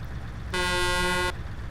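A vehicle horn in the video game Altis Life gives one steady toot of just under a second, clear and fairly loud over a quiet background.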